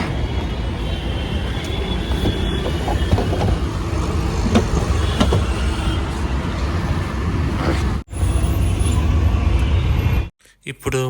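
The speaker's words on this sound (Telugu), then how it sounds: "ఆటోలో వెళ్తున్నాం మెహదీపట్నం ఏరియాలో" An auto rickshaw moving through Mehdipatnam traffic in Hyderabad, with a continuous rumbling engine and road roar, scattered horns and clatter, and a brief cut near the end.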